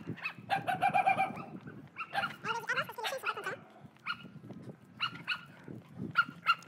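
Several dogs bark in bursts during an outdoor walk, the yaps coming at middling distance in irregular clusters, with faint bird-like chirps mixed in and no clear talk.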